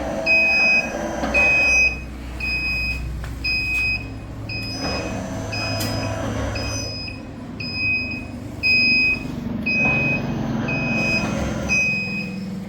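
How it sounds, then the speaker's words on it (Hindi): A buzzer on a semi-automatic bath soap punch machine sounds in repeated short, bright beeps at a steady rhythm, loud and close over the low hum and thuds of the running machinery. "ये बज़र इस वजह से दी है ताकि क्लाइंट को पता चले कि ये ऑटो पे चल रही है"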